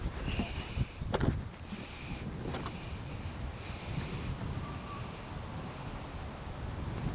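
Wind sweeps over an outdoor disc golf course at the Turku Open, a steady, fairly faint rushing buffet on the microphone with a couple of brief knocks near the start and no talking.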